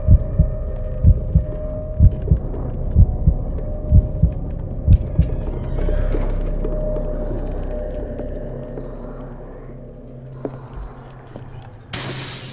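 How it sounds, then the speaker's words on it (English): Heavy, regular heartbeat thumps from the Call of Cthulhu video game pulse steadily in the foreground over a low throbbing hum, fading into a droning rumble for the second half before a sudden burst of noise at the end. "Does it like hear my heartbeat or what?"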